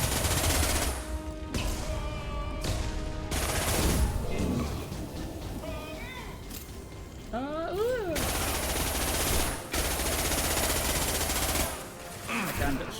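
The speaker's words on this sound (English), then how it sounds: "That gun fires so many rounds" Rapid bursts of automatic gunfire from a gun in Mass Effect 2, loud and dense in sustained stretches broken by short pauses, with a few chirping effects in between.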